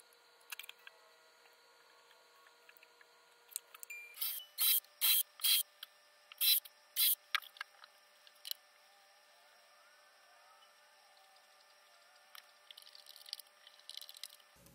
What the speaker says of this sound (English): You would not believe how easy these screws go in with this wax on them.